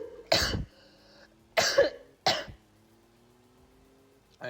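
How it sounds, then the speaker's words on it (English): Three harsh coughs burst out close to the mic, two in quick succession and then a third, separated by quiet pauses with a faint low hum underneath. "I just coughed my ass off."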